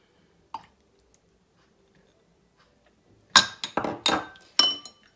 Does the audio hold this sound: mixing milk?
yes